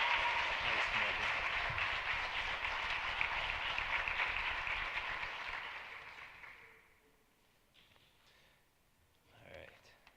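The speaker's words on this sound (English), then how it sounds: "Let's have a round of applause for one of my best friends, Morgan Washington." Graduates' families at an eighth-grade commencement give a warm round of applause, dense clapping that swells, then tapers off after about six seconds, leaving faint speech afterward.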